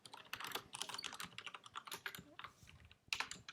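Rapid typing on a computer keyboard while coding, a dense run of close, crisp key clicks with uneven rhythm and a brief pause before a final burst.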